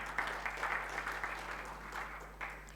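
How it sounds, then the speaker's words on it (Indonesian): Congregation applause at a Sunday church service, a steady, fairly soft patter of many hands clapping together over a low hum, without voices. "Berikan tepuk tangan"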